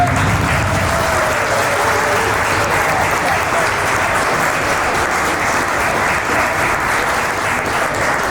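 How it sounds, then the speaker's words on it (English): Steady applause from a wedding audience fills the room, a dense, even wash of clapping that holds at a constant level from start to finish, with a faint murmur of voices beneath it. "I think we should give everyone a round of applause"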